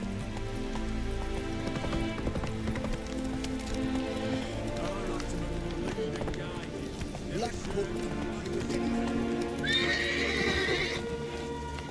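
A horse in The Witcher 3: Hearts of Stone, with whinnying and neighing over hoof clip-clop and a rain-like patter, set under game music and a voice.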